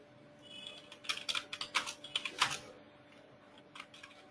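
Keystrokes tapped out on a computer keyboard while writing PL/SQL code, a quick irregular burst of clicks in the middle with a steady low hum underneath, close and moderately quiet.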